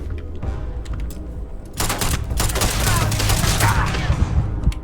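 Rapid bursts of enemy gunfire in the sci-fi video game Starfield, a dense volley of shots that grows louder and busier midway and keeps crackling steadily to the end, with no talk over it.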